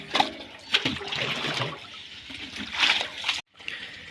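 Irrigation water flows into a wheat field, a continuous close splashing and gurgling trickle with a few louder surges and a brief drop-out near the end.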